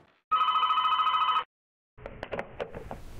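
A telephone in The Ritual video game rings with one long, loud electronic trill, falls silent, then gives way to softer clicks and bumps.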